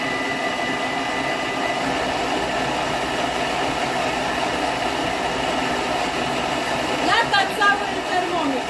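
A Thermomix TM6 mixing kartacze dough runs with a steady loud whirring drone and an odd hollow tone throughout, with a voice speaking over it near the end.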